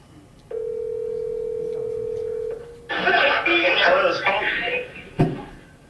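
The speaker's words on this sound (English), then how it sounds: "Let's get him on the phone." A telephone dial tone hums steadily for about two seconds as a call is placed, then cuts off and a voice answers on the line, ending with a sharp click.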